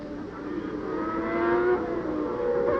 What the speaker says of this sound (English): The distinctive note of that 12-cylinder Ferrari.